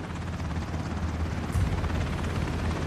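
Helicopter in the video game Ring of Elysium, a steady low rotor thrum that holds throughout at constant loudness with no talk over it.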